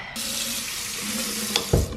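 A bathroom sink tap runs with a steady close rush of water while someone brushes their teeth, then a brief splash and a thump near the end.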